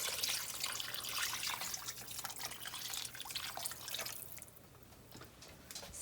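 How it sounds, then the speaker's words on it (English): Water pours from a tap over frozen potatoes in a cooking pot, a steady close splashing and trickling that thins out near the end, with no voices. "you want to add enough water to cover the potatoes"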